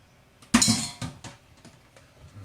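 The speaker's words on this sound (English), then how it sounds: "take your fork and scrape it on down and in" A fork scrapes and clinks against a pan of mashed potatoes in a few quick metal strokes, one sharp loud scrape first and then softer taps and scuffs trailing off, close up and with no talk.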